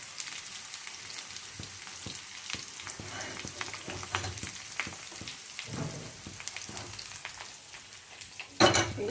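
Hilsa fish fries in a pan, a soft crackling sizzle with scattered sharp pops and spatters, moderately quiet and close, ending in a brief louder burst of crackle.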